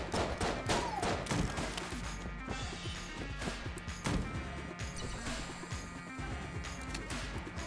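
Dense, continuous gunfire from the dungeon-crawler shooter Enter the Gungeon, rapid cracks and bursts piling over one another with crashing impacts, loud and unbroken throughout.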